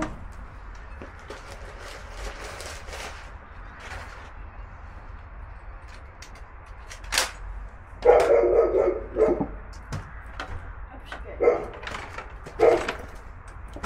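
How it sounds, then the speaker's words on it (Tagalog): A neighbour's dog barks a few times at a distance, short sharp bursts spaced apart over faint background noise. "Narinig siguro ako nung aso na naman dito sa kapitbahay namin"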